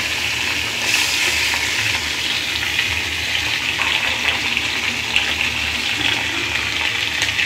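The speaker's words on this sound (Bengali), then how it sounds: "এটার মধ্যে মাছ ভাজবো" Mola fish fry in oil in a pan, giving a loud steady sizzle and hiss that runs without a break and with no voices.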